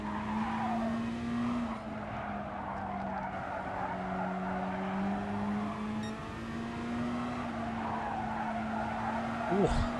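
In the GT Sport racing game, race car tires skid with a long, sustained squeal that wavers in pitch over a droning engine. A voice talks briefly over it.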